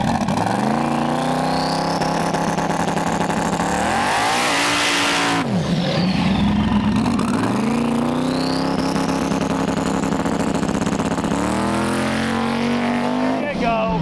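A race car on a back track test run ahead of a dig race, its engine loudly revving and accelerating, pitch climbing, dropping between shifts, then climbing again as it pulls away, with voices faintly mixed in.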